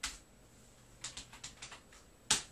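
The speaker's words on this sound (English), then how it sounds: "when I open up my browser, type in localhost /pictures." Keys clatter on a computer keyboard: a single press, then a quick run of clicks, and a final louder tap, all close and isolated against a quiet room.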